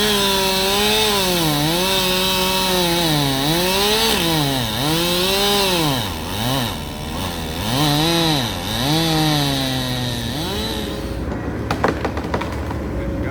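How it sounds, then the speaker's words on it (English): A chainsaw revs and bogs repeatedly as it cuts into trees during heavy garden work, its engine pitch rising and falling, loud and close, before cutting out near the end. "Looks like we need the chainsaw again."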